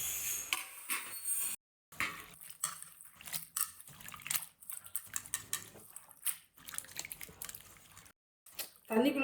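Dried anchovies (nethili karuvadu) are swished and rinsed by hand in water, with soft splashing, dripping and clinking from a bowl under someone speaking nearby.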